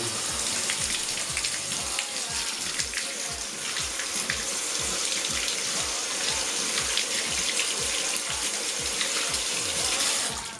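Running tap water splashes steadily onto the square filter of a Zelmer 829.0 ST Aquos aqua-filter vacuum cleaner being washed in a sink, a close, continuous spattering flow with no talking.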